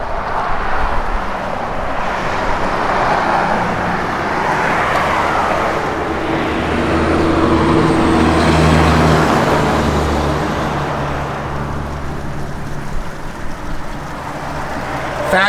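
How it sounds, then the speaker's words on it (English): A 1966 Ford Mustang convertible with a 289 V8 and an H-pipe dual exhaust runs with a broad, steady rumble that swells in the middle and eases off. "It's got a great sounding H-pipe dual exhaust system in it."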